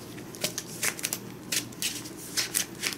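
Playing cards from a Magic: The Gathering deck being shuffled, a run of quick riffling bursts close up, repeating several times at a moderate level with a faint background hum.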